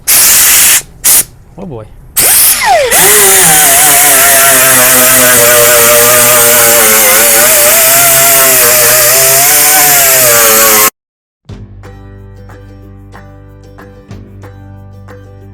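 A grinder or similar abrasive tool cleans the metal of a car's quarter panel before welding, a loud, harsh sustained whine with wavering pitch that stops abruptly; a voice briefly exclaims near the start.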